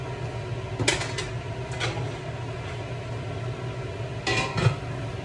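A cooking pan being washed in a home kitchen makes a few scattered metallic clanks and scrapes over a low, steady background hum.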